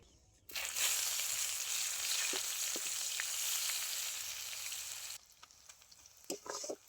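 Chopped onion hits hot oil already seasoned with a dried red chilli and two bay leaves, for a rohu fish and potato curry. It sets off a loud, steady sizzle that runs for about four seconds, then fades, with a few light utensil clinks near the end.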